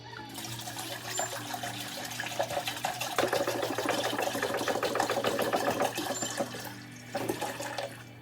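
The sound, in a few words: water being poured into a pot of boiling vegetarian broth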